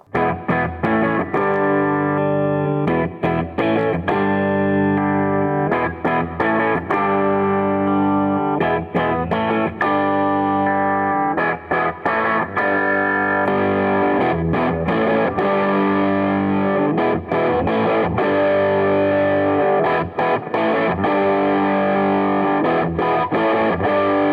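An Eastwood Hi-Flier electric guitar with humbucker pickups plays continuous chords through heavy distortion, loud and sustained, with brief gaps between strums and no voice over it.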